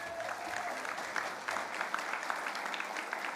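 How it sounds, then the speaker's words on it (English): Audience applause at the New Zealand First party convention, a steady crowd clapping throughout, moderately distant and continuous. "so give them a round of applause."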